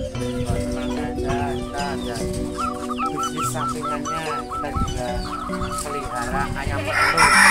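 Several Elba laying hens cluck and squawk close by in a coop, a constant busy chatter with occasional louder calls rising over the flock.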